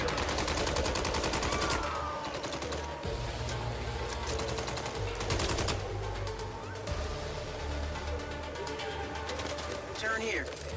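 Rapid gunfire crackles through a busy game scene in the video game Mindseye, layered over steady music and effects, with bursts of shots continuing throughout.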